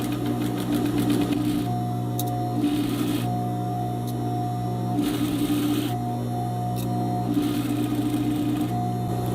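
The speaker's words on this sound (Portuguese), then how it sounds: "Conforme for costurando, vai tirando os alfinetes." Sewing machine stitching the seam of a straight skirt: repeated bursts of rapid mechanical whirring stitches separated by short pauses, close and clear, with a steady background hum and no talk.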